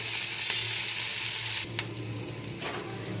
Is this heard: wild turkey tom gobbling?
no